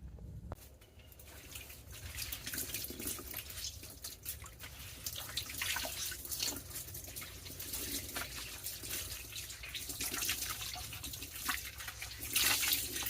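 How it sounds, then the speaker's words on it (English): Wet laundry being wrung out by hand over a bucket, water splashing and trickling steadily into it, close and continuous with irregular dribbles and spatters throughout. "So I'm going to wring these out the best that I can, put them in the washer"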